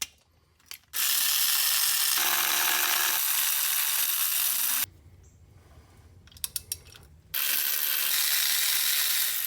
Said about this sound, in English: I'm going to go ahead and undo these torque converter bolts